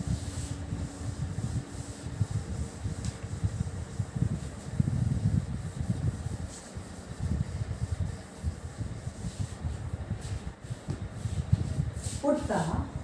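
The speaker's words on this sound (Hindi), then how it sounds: "ऊपर वाला मैं रब कर रही हूँ" Writing is rubbed off a board with a brisk, irregular scrubbing that goes on for several seconds, close and moderately loud, with a brief pause midway.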